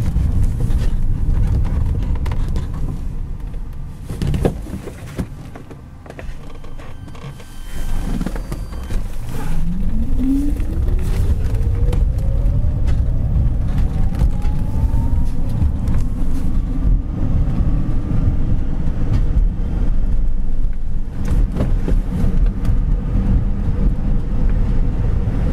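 A 1972 Volkswagen pickup drives down the road, its engine note dipping and then rising steadily as it shifts up through the gears, with constant wind and road rumble loud and close throughout.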